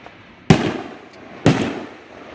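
Two sharp fireworks bangs about a second apart at a private backyard show in Black Earth, Wisconsin, each loud and close with a short crackling decay into quiet.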